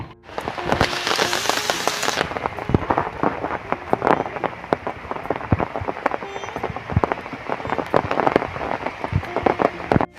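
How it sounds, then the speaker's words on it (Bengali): Heavy rain pours down in a dense, continuous patter, with sharp splatters and drops cracking against nearby surfaces throughout. "এত জোরে বৃষ্টি হচ্ছে চারপাশে"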